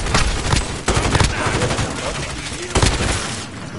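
Loud close bursts of automatic gunfire in Call of Duty Warzone, several rapid volleys with short gaps between them and a voice faintly audible underneath.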